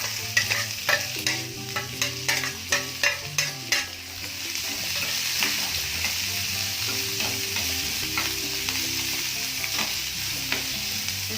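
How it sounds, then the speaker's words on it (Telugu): Green chilies, onions and ginger pieces sizzle in hot oil for masala paniyaram, a dense close crackle opening with a rapid run of spoon taps and stirs, then an even frying hiss, with no voices. "ఇప్పుడు వేస్తున్నాను పచ్చిమిరపకాయలు, ఉల్లిపాయలు, అల్లం ముక్కలు."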